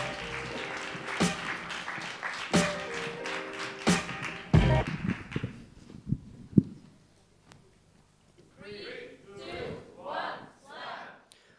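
Audience applause for a slam poet at a European slam poetry championship comes in as scattered, moderate clapping toward the end, following sharp thumps and a voice talking earlier.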